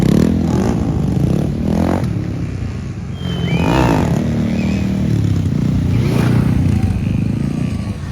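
Motorcycles stunting at a race track, engines revving up and down in repeated surges, with scraping and clattering among loud mechanical noise.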